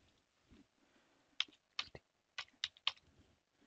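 Typing on a computer keyboard, entering a search term on an Ubuntu 16.04 computer: a few sparse, crisp key clicks in uneven bursts, close and fairly quiet, with no speech.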